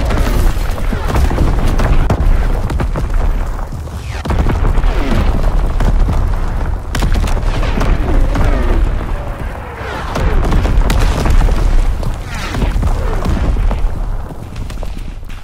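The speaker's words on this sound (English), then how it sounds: "Incoming enemy artillery!" Enemy artillery explosions in the Call of Duty WWII video game, a steady barrage of deep, loud booms and rumbling thuds rolling on continuously with little pause between blasts.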